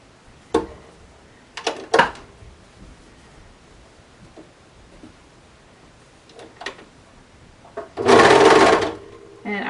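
Serger overlock machine stitching a knit cuff onto a cardigan sleeve, a loud sustained whirring burst near the end after a few short clicks and handling rustles.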